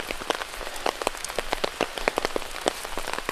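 Rain falls around a small hut in the middle of a rice field, a close, dense patter of drops striking nearby surfaces in an irregular, continuous stream.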